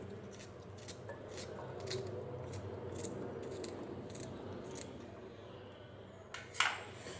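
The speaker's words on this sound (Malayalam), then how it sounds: "ഇതും കൂടി നമുക്ക് ചെറുതായിട്ടൊന്ന് കട്ട് ചെയ്ത് ചേർത്ത് കൊടുക്കാം" A knife makes a series of light, crisp taps while cutting a small piece of ginger for fresh lime juice, close by, over a soft steady background hiss.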